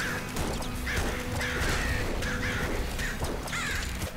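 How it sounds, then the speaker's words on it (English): Crow enemies in the PC game Nuclear Throne, several harsh cawing calls repeating over busy game noise and clattering effects, loud and close. "Damn motherfucking crows!"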